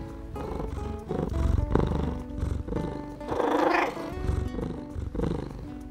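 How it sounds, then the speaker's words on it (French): A cat purring in steady, rumbling pulses, close by, with no talking. "Lorsqu'il est content, il ronronne."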